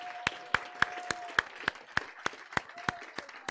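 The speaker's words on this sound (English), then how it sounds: "Can we give Jesus a hand clap this morning?" Hands clap in a church service, a steady, evenly spaced series of sharp claps at a quick tempo, faint and somewhat distant, with a soft sustained tone underneath.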